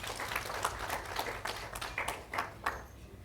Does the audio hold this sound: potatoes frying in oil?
no